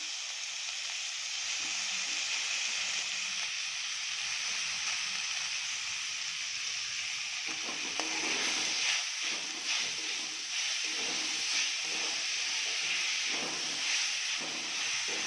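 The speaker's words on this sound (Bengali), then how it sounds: "এবার এর মধ্যে দিয়ে দিচ্ছি একে একে পেঁয়াজ কুচি।" Finely chopped onions sizzle in hot oil in a pan, a loud, steady hissing fry that crackles more busily after the onions go in, with no voices.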